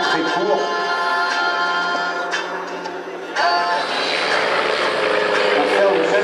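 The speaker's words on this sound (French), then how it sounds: "Un avion qui sait se poser et décoller très très court." A short takeoff and landing airplane at the 2016 La Ferté-Alais airshow, its engine giving a steady, droning, propeller-like hum throughout, with a voice talking over it.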